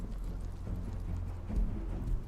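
Horse hooves clip-clop steadily on the ground in a rhythmic walking pattern, close and moderately loud, with a low rumble underneath and no talking.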